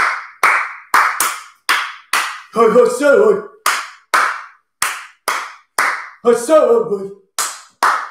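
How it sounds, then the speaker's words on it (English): Sharp, close hand claps in a steady beat, about two per second, interrupted twice by a brief sung or spoken vocal phrase. "always good to put a clap in there"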